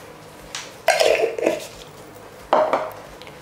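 A knife slices through a garlic bulb on a cutting board, giving three short, crisp cuts with board knocks, close and clear, with no talking.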